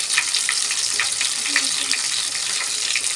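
Pieces of fish fry in a pan of oil with a steady, dense sizzle, close and continuous throughout, and a voice speaks faintly beneath it.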